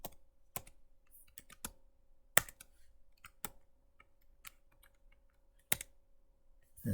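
Sparse computer keyboard key presses while coding, a few sharp isolated clicks spaced irregularly over near silence with a faint steady tone underneath.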